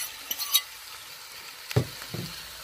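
Jamaican-style okra and saltfish cooking in a pot is stirred with a low sizzle underneath and two distinct scraping strokes of the spoon, close and fairly quiet.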